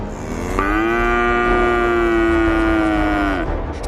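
A cow lets out one long, loud, steady moo that swells and then fades, standing alone without other sounds, in a Bengali audio story about a tiger attacking a cow in the Sundarbans.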